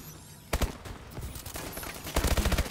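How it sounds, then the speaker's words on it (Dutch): Rapid bursts of automatic hipfire gunshots from the video game Call of Duty: Advanced Warfare, a sharp opening volley followed by scattered shots and a loud closing burst, all close and punchy with no talk. "Ah, dat was een hipfire."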